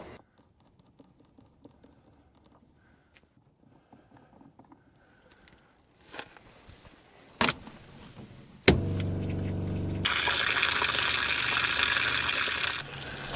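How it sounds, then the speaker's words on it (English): A pump draining the freshwater tank of a Palomino truck camper: faint clicks and knocks at first, then a brief clatter, then a loud steady rush of gushing water that runs to the end. "I've got the pump going on in there, and it's going to drain out everything in my freshwater tank"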